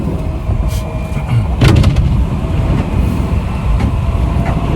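Inside a commuter train on a ride from Tokyo to Higashi Kurume, a steady rumbling rolling drone with scattered clicks and one sharper clunk midway, close and continuous, no speech.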